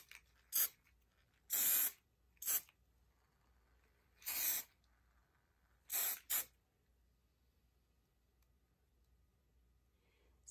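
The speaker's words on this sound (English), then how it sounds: "I'm just going to do light spray here and see what it does." Short hissing bursts from a spray paint can, five quick light sprays of varying length onto a paint pour, separated by quiet pauses, close and fairly soft.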